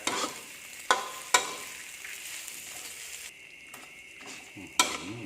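Shrimp stir-fried with dried chilies in a pan, a steady sizzle with a few sharp scrapes of the spatula against the pan as the food is tossed. There is no talking.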